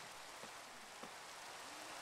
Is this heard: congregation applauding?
no